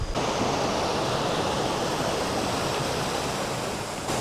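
A small, clear river flowing beside a roadside bridge, Kali Sawal, gives a steady, continuous rush of water, loud and close, with no talk over it.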